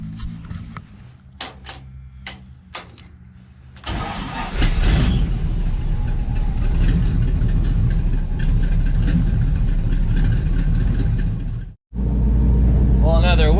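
A car engine warms up before a drag run: a few sharp clicks, then from about four seconds a loud, steady engine runs close by, with a brief cutout near twelve seconds before it resumes.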